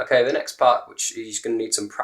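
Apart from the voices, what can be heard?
None of the usual background noises is heard.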